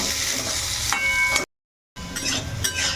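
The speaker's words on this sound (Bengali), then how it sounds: "এখন এই আলুগুলো তেলের মধ্যে একটু লাল লাল করে ভেজে ফেলবো" Potatoes frying in mustard oil in a pan, a steady dense sizzle with a few stirring scrapes, broken by a half-second gap of silence before the crackling frying resumes.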